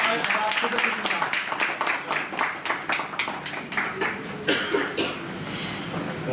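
Audience clapping at a company's first-anniversary event in Faisalabad as the chief guest is welcomed to the stage; dense, steady applause with sharp claps and a few coughs throughout.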